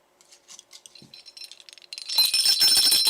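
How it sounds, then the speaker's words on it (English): A small brass bell is handled, giving light metallic taps and jingles that build into a steady bright ringing shake, close and fairly loud. "Brass bell"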